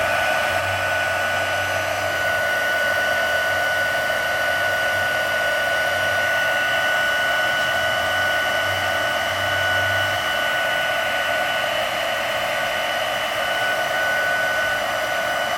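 An embossing heat gun blows hot air in a steady, loud, continuous whir that holds unchanged throughout, with a faint low hum briefly beneath and no talking.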